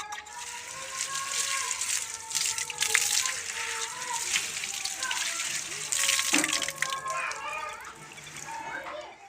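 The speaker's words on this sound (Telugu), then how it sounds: "అలాగే గోంగూర కూడా శుభ్రంగా అడుగుతాం" Running water gushes steadily from a tap as gongura (sorrel) leaves are washed, a close continuous splashing flow that carries on throughout, with voices faintly present.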